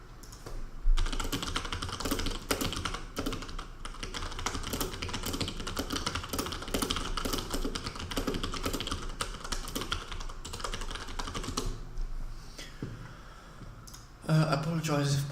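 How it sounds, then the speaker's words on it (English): A loud computer keyboard clatters with rapid, continuous keystrokes close up, dense irregular clicking running through the whole stretch. "I apologise if my keyboard is excessively loud."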